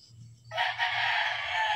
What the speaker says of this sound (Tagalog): Alaga din ng mga manok.